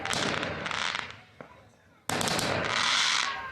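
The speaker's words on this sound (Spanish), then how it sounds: "los fuegos artificiales iluminaron los cielos de varias comunas" Fireworks light up the sky over several districts in Chile, heard as dense crackling bursts that fill the first second, drop into a short lull and then return loud and sustained.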